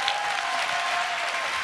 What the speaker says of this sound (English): Let's give him a tremendous round of applause